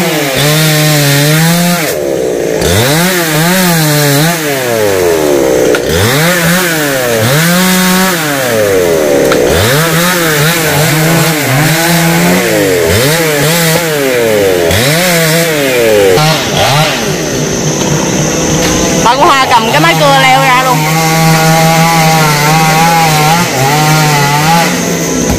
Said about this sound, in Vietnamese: Sao sao quý vị có thể nghe thấy là tiếng máy cưa của anh Hải nữa.